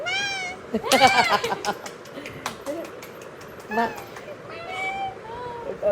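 Voices talk while a child imitates a cat meowing, with a loud drawn-out mew early on and softer meows later, close by.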